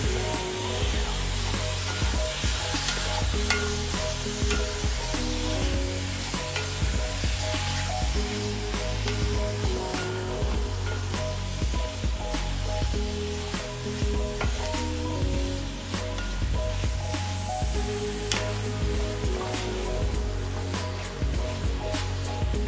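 Chicken pieces and masala for Chettinad chicken gravy sizzling hard in a pan while being stirred, a dense steady hiss with constant clattering spoon scrapes, close and loud throughout, no talk.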